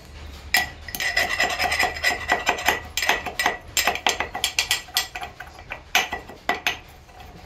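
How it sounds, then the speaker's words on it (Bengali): An O2 tablet is crushed to powder in a mortar, making rhythmic scraping and grinding strokes with hard clinks of pestle against the bowl, close and fairly loud, without talk. "একটা হামলদস্তিতে অবশ্যই গুঁড়ো করে নেবেন।"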